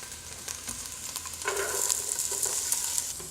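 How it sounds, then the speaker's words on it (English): Diced carrots and yellow onion sautéing in a pan make a steady, moderately loud sizzle with scraping stirs and light crackles, alone without talk. "We'll saute these here for about, maybe 5 more minutes or so"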